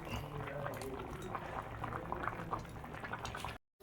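Fish curry with green mango and curry leaves bubbling in a pot on the stove, a steady close simmering burble that runs throughout and cuts off abruptly near the end.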